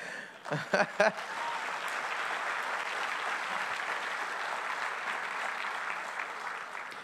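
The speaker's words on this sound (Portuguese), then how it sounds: "Dá um aplauso a Jesus aí." Church congregation applauding, a steady wash of clapping that rises after a few brief louder sounds at the start and holds through to the end, moderately distant and without speech over it.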